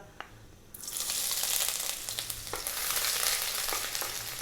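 Garlic and ginger dropped into very hot oil for chicken fried rice, bursting into a loud, close sizzle after a quiet moment, with crackling spatters and a few stirring scrapes.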